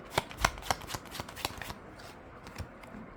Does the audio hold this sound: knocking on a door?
no